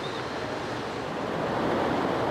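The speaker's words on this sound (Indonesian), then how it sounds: "Suara air terjun sudah terdengar." Seuhom waterfall in a forest in Aceh Besar roars as a dense, continuous wash of falling water, steady and close with no other sounds.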